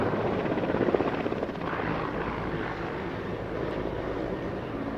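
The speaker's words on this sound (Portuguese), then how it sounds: "This helicopter flying backwards." A yellow helicopter flying backwards, its steady rotor and engine roar holding loud and close from start to finish, slightly louder in the first second, with no talking.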